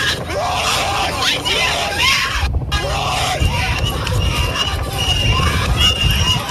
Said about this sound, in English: Listen to the idiot in the background still screaming